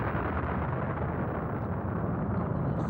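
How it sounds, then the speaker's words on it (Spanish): A Big Bang explosion effect in a science program, a dense, continuous low roar that rumbles steadily without a distinct attack, loud and filling the whole stretch. "Tiene lugar una misteriosa fluctuación y se genera la gran explosión."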